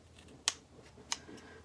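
Two crisp snips of scissors cutting through handbag lining fabric to make an opening, separated by a short pause, close and quiet over faint room noise.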